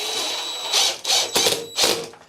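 Power drill driving a screw through a wall bracket half into a tiled wall, close and loud, with several short whirring bursts separated by brief pauses; no one speaks.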